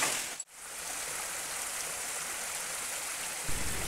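Steady rain pours down in a constant hiss at a ravine where a fallen JCB is being recovered, briefly cut by a short dropout near the start, with no voices.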